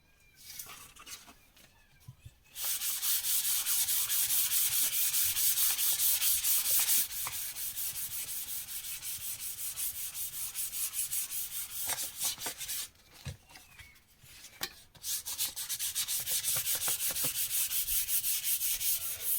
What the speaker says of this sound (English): So I'm going to start sanding.